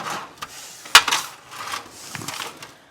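Broom bristles sweep and scrape construction debris into a dustpan on a building site floor, with a sharp knock near the middle and softer brushing strokes around it, close and moderately loud with no talking.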